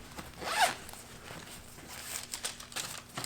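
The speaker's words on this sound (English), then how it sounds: "we want to open up all the zipper pockets on the outside" Zipper pockets on the outside of luggage are unzipped during a contraband search in a behavioral healthcare setting, a short, close, quiet rasp followed by soft rustling of fabric.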